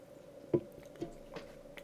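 A few soft, close wet sips of Coca-Cola, three or four brief slurping pulses spaced about half a second apart over a quiet room background.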